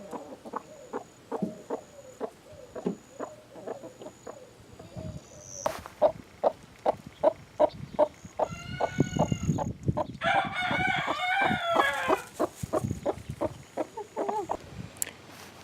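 A broody hen clucks repeatedly in a steady, close rhythm on a farm, and a rooster's crow breaks in over the clucking partway through.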